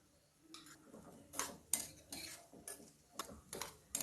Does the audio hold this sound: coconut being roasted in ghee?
yes